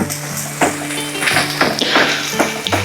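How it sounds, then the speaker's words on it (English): Food sizzles and fries in a pan for a Filipino breakfast while a utensil stirs and mashes it, with steady sizzle broken by repeated sharp taps and scrapes against the pan surface. "I like to mash it because I want to get as much of that pan's surface as possible so that it cooks quicker"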